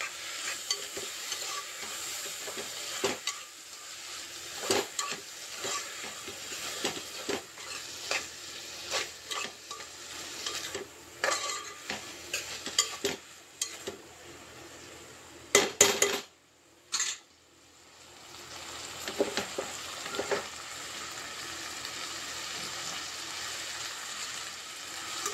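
Boiled broad bean seeds are stir-fried in a pan: a soft continuous sizzle under frequent spoon scrapes and clinks against the metal, with a brief louder clatter partway through.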